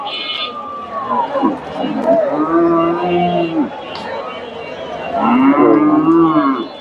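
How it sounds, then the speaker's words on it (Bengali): A dairy cow moos several times in long, drawn-out calls at the Dhaper cattle market in Bogura, Bangladesh, with a second lowing run near the end, over outdoor background noise and some nearby talk. "এই যে গাভিটা"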